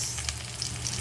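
Meat sautéing in a pan, a brief steady sizzle with faint crackles and no talking.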